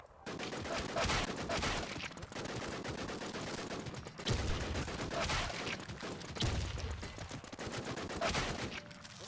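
Rapid automatic gunfire in the shooter game Retrospect rattles in sustained bursts with brief pauses between volleys, loud and dense throughout.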